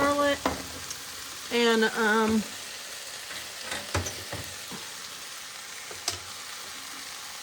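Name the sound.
heating beef macaroni sauce with onions in pan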